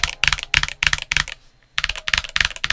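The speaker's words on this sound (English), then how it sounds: "Now, if you're looking for clack, this just might be it." A Cidoo ABM084 mechanical TKL keyboard with pre-lubricated switches is typed on up close, giving rapid, crisp clacky keystrokes in two quick bursts with a short pause between.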